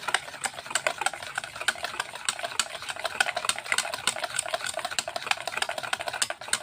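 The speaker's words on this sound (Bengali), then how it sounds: "এখন এটা ভালো করে আমি ফেটাই নেব।" Cake batter made with oil is beaten by hand in a bowl for a soft, spongy tea cake, giving quick rhythmic clacking strokes that repeat steadily and close up throughout.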